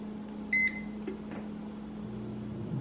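Air fryer beeping as its timer is set to about three minutes, a short run of clear electronic beeps followed by a single beep and softer clicks over a low steady hum, heard close with no voices.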